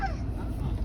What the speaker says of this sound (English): Get out of there, bird.